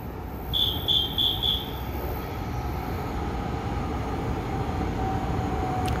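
A Chu-kuang Express passenger train hauled by a single E240 electric locomotive on Taiwan's Western Line, running as a student special with seven old folding-door coaches; a steady broad rumble of rolling stock with a brief high squeal near the start.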